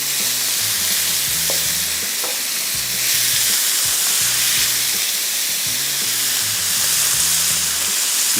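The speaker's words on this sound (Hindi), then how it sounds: "तो चिकन को तेज़ आंच पे थोड़ा सा फ्राई किया," Chicken stir-frying over high heat sizzles loudly and steadily in the pan, with a constant hiss and occasional scraping stirs, and no talking.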